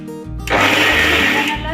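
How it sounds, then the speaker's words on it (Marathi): A mixer grinder whirs loudly and steadily as it grinds peanuts with cardamom pods, starting abruptly after a brief lower hum and running continuously at close range. "मिक्सरमध्ये शेंगदाणे घालून घेतलेले आहेत, त्याच्यामध्ये वेलदोडे टाकून घेऊया आणि मिक्सर ऑन करून बारीक करून घेऊया"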